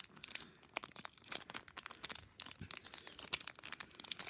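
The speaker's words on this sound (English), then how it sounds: "I'm gonna open up the Scarlet and Violet pack first" A Scarlet and Violet trading card pack being torn open by hand, with close, quiet crinkling and ripping of foil wrapper in irregular bursts.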